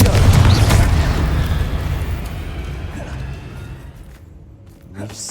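A loud fiery blast from the Confringo fire spell in the Hogwarts Legacy video game bursts at the start, then a long rumbling tail slowly fades out with a small burst near the end.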